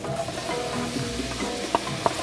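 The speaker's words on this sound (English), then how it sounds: "I don't know if you can hear those sizzling" Diced onions sizzling in a hot pan, a soft continuous crackle with a couple of sharp clinks or scrapes near the end.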